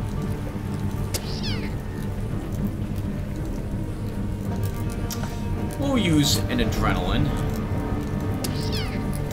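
Mutant cats in the Underrail game meow and yowl in bursts, the loudest cluster midway, over a steady rain-like hiss, with someone talking throughout.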